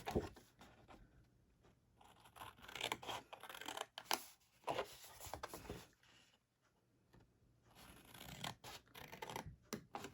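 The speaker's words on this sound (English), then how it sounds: "We're going to cut on our score lines up to these little score lines right up here" Scissors snip through paper along score lines while making a small treat box, producing close, steady rasping and crunching cuts in short bursts with brief pauses, no voices heard.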